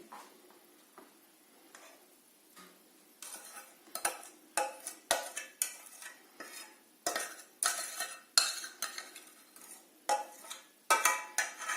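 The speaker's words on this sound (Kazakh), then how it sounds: "Енді араластырамыз" Honey cake batter being stirred with flour, a rapid rhythmic series of utensil scrapes and taps against a bowl, close and clear, with a quieter stretch before the strokes pick up.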